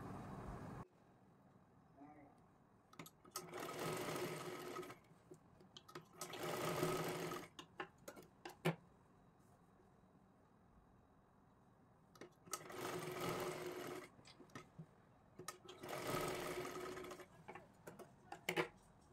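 A domestic sewing machine runs in several bursts while stitching tucks on a size 38 blouse, each run a steady rapid whir of a few seconds, with quieter handling sounds and pauses between runs.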